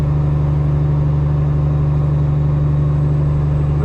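A semi truck's diesel engine drones steadily under light load while pulling an empty trailer, a loud, constant low rumble with no revving or changes.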